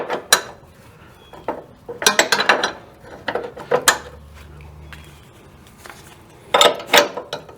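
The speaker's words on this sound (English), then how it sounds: "You got to break this bolt loose, it's kind of tight. So a good technique to use is to use two wrenches together." Two wrenches work a tight bolt loose on a Mazda Miata coilover, with sharp metallic clanks and clicks in irregular bursts and quieter scraping between them.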